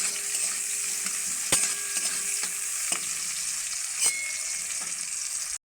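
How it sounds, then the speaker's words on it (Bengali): Chopped onions fry in a pan, a constant close sizzle broken by a few sharp clicks of a spatula against the pan and no voices. "পেঁয়াজটাকে ভালো করে লাল লাল করে ভেজে দেব।"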